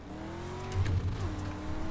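Race cars in a racing video game, engines droning together at steady pitch with a louder burst of revving and rumble midway, then settling back into a continuous, close engine hum.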